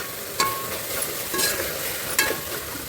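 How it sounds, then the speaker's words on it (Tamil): Biryani masala, garam masala and turmeric frying in hot oil for vegetable biryani, a steady soft sizzle with a couple of sharp stirring scrapes near and fairly quiet. "மசாலா வந்து ஆயிலில் நல்லா ஃப்ரை ஆகும்."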